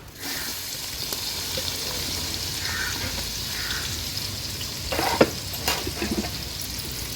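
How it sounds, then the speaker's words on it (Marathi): Crushed ginger-garlic and onion hit a hot tempering of black pepper, cloves and cinnamon for an Agri Koli mutton rassa cooked over a wood-fired chulha, giving a steady, close sizzle that swells with a few sharper crackles near the end. "हे आलं लसूण क्रश आणि कांदा आपण फोडणीला घालूया"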